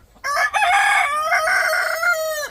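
A rooster at a chicken farm lets out one loud, close, drawn-out crow lasting over two seconds, with faint clucking around it.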